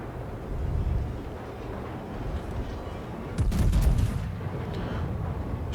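Warship guns firing in World of Warships, a deep rumbling boom swelling about midway over a constant low engine and sea drone, muffled and heavy rather than sharp.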